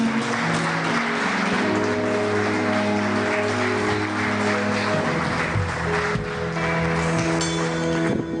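Church congregation applauding, sustained clapping spread across the room, mixed with held musical tones and murmured voices underneath.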